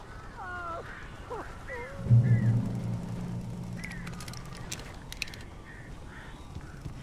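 Crows caw in the video game Alan Wake Remastered, several harsh calls scattered over a low rumble, with a heavier thud and a brief voice near the middle.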